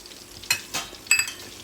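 A few cloves drop into hot oil, giving short sharp sizzling bursts separated by quiet gaps, close and moderately loud, while making rui fish kalia.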